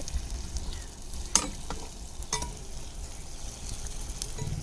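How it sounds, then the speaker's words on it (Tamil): Athirasam, a rice and jaggery sweet, sizzles steadily in hot oil, with a couple of sharp clinks as the pieces are turned over partway through; no talking. "இப்போ பாருங்கள் அதிரசம் ரெண்டு பக்கம் பாருங்கள் நல்லா வெந்து வருது"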